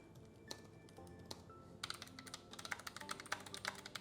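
Typing on a Royal Kludge RK925 folding mechanical keyboard, with sparse single key clicks at first and then a quicker run of crisp, close keystrokes.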